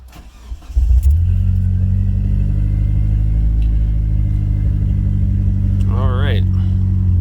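A second-generation DSM car engine cranks and catches, then settles into a loud, steady idle through a loud exhaust just after an oxygen sensor replacement. A voice briefly speaks near the end.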